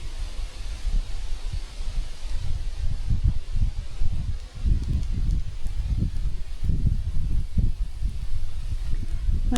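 Steady wind gusting through leaves at a bushcraft campsite with a leaf hut and campfire, a continuous rustling roar that surges and eases without a break, with no speech.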